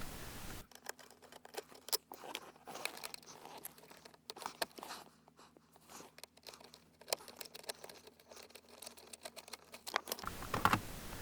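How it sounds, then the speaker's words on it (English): A screwdriver works two Phillips screws out of a plastic vent piece in an Alfa Romeo cabin, heard as quiet, close, irregular ticking and scraping clicks with light plastic rattles and no talk. "Now I'm gonna undo these two Phillips screws which hold this plastic"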